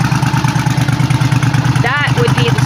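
A Suzuki Intruder motorcycle idles with a deep, throaty, pulsing rumble from a loud custom aftermarket exhaust, steady and close, while someone talks briefly over it.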